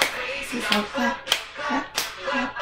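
Hands clap along with a children's circle-time song, sharp bursts recurring in short groups over a sung melody, fairly close and moderately loud.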